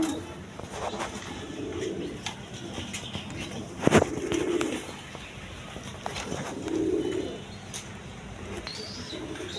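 Rajgolla pigeons coo in soft, repeated throaty calls, several bursts spread across the stretch. A sharp flap or knock stands out near the middle, and faint background noise sits underneath.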